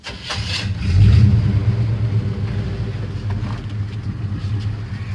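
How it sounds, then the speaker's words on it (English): A 1975 Chevy C10 Silverado truck with a rebuilt carburetor cranks and catches, the engine surging loudly for a moment before settling into a steady, rumbling idle close by. "Man, this old truck runs good."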